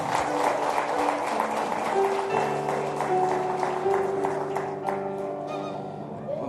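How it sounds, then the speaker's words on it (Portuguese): A church congregation applauds the children during a Sunday morning service, steady clapping mixed with scattered voices and sustained tones, holding fairly even before easing toward the end. "Vamos dar palmas para as crianças."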